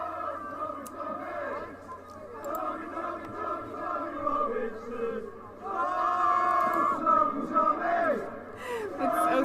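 A large crowd at a rally roars and chants in sustained waves, swelling louder toward the end, with voices blending into a continuous mass of shouting.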